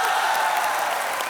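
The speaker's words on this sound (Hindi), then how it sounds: "जोरदार तालियों से स्वागत कीजिए हमारा।" A studio audience at a comedy show claps steadily and densely, loud and close, a short burst of welcoming applause with crowd murmur and no clear speech.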